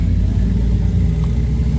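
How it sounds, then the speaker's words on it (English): Car with a Borla switchfire exhaust idling nearby, a loud, steady deep rumble throughout a short stretch. "Borla switchfire exhaust."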